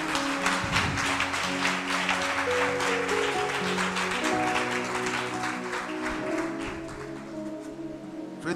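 Church congregation at a worship service applauding and cheering steadily and loudly over sustained music, continuous throughout.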